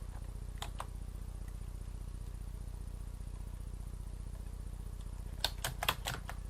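Quiet computer keyboard typing in a Windows 10 session, with a short burst of keystrokes early and a faster cluster of clicks near the end over a soft fan hum.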